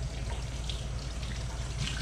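Tap water runs steadily into a kitchen sink while a potato is washed under it, a continuous close hiss and splash with no talking.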